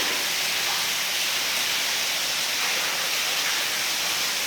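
Water falls down a waterfall inside Cueva Hoyuca, a dense, steady rushing hiss that fills the cave without pause or break.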